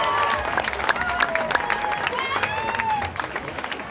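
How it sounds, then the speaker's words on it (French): An outdoor crowd at a village festival night with a cocktail band applauds the Mireval festival committee, clapping mixed with crowd noise, scattered whistles and faint cheering. "j'aimerais qu'on applaudisse très fort, s'il vous plaît, le comité des fêtes de Mirval"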